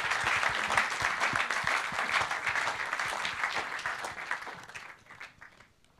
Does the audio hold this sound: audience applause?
yes